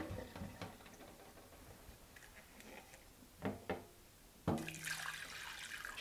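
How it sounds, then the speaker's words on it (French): Water runs to rinse cooked rice in a kitchen: scattered clinks and short splashes build to a louder steady gush from the tap near the end, close by, with no talking. "Je vais utiliser de l'eau pour rincer le riz"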